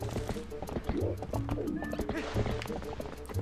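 Horse hooves clip-clop steadily in Zelda: Twilight Princess HD, a video game, with a rhythmic run of hoofbeats mixed among game music and effects.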